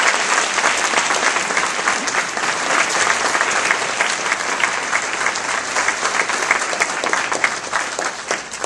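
A large audience applauds steadily and warmly to welcome Steve Forbes at a 2011 campaign kick-off event, a dense sustained wash of clapping with no voices over it.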